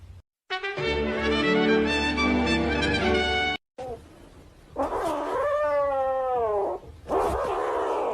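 A cat yowls in long, drawn-out wailing cries, first one sustained howl, then after a short gap a rising, wavering caterwaul and a final yowl, loud and close with nothing else over it.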